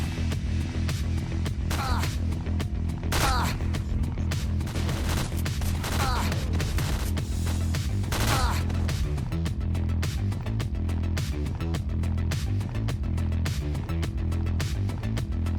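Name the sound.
PP-19 gunfire in a S.T.A.L.K.E.R. mod video game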